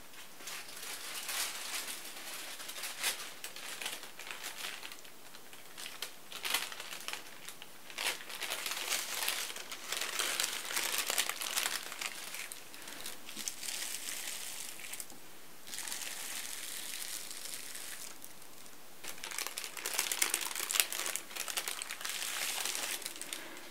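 Glittery tissue paper crinkles and crunches continuously while being placed into a gift bag, close and fairly soft, in steady rustling bursts with no talk.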